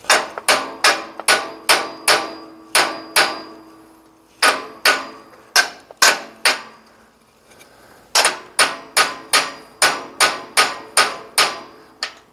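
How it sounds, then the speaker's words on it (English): Hammer driving a punch on a Brunswick A2 bowling pinsetter turret, sharp metallic blows in quick bursts of six to eight strikes with short pauses between, loud and close with no talk. "swinging the hammer and the punch over here"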